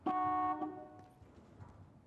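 A car horn from a TV show blares one sustained honk of about half a second, then fades out into quiet background noise.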